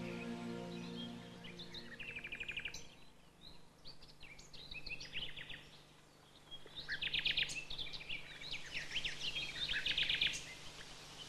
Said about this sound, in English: Especially one whose song is considered the most beautiful in the land, the nightingale.